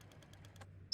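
A phone number being dialed in the Chicken Police video game: a run of soft, evenly spaced keypad taps, faint and close, ending in a sharper, louder click.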